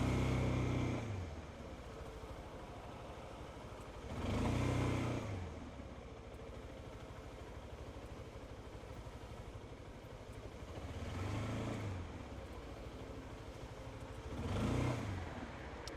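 A scooter engine drones steadily while riding through the Tokyo mountains in autumn, with several louder swells of engine noise rising and fading over the ride and no talk.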